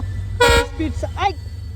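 A short, loud train horn toot sounds once near the start, followed by people talking over a low rumbling background.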